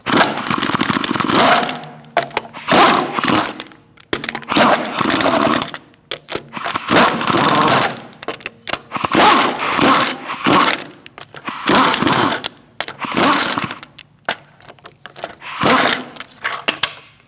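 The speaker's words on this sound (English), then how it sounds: "Using a 19mm socket, we're going to remove our hubcap." A power tool with a 19mm socket removes the hubcap and lug nuts from the rear wheel of a 2016–2019 Chevrolet Cruze: loud, close bursts of whirring and rattling, about eight of them, separated by short pauses.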